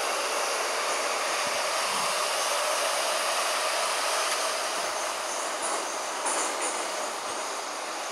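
Minsk metro train, an 81-717, running between stations: a loud steady rushing roar with faint wheel squeal and clatter in the tunnel, continuous and unbroken, no one speaking.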